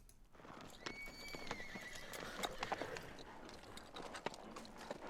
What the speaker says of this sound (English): Just a horse idling around, and again, rotating through a few different sounds.